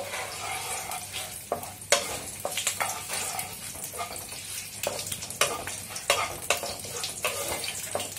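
Cumin seeds sizzle in hot oil as the tempering for Bengali khichuri is prepared, a steady frying hiss broken by repeated scraping and stirring clatters at close range.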